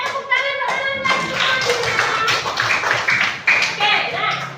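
Students in a classroom clap in a short, rhythmic pattern during a lesson, with crisp hand taps that come and go while a teacher and pupils talk over them.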